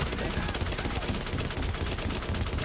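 Dense, continuous automatic gunfire in the shooter video game The Division, rapid overlapping bursts filling the whole stretch at high volume, with voices talking underneath.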